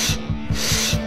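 An ordinary electric drill bores a hole for an electrical socket in a building panel, making a close, steady grinding rasp with a rapid low pulsing beneath it.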